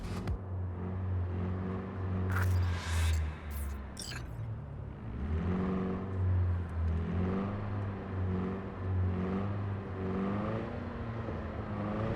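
Car engine in the video game Cyberpunk 2077, a steady, close mid-pitched drone that swells and rises in pitch as it revs and accelerates, running continuously throughout.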